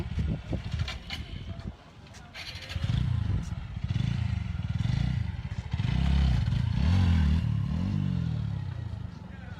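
A motorcycle is ridden on a trip to Itna-Mithamoin, its engine rumbling close and loud with surging revs, while wind buffets the microphone and faint clattering runs under it.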